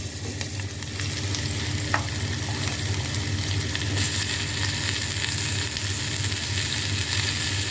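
Mango pieces fry in mustard oil with mustard seeds and cumin for a chutney, a loud, steady close sizzle with occasional scrapes of stirring, no talk.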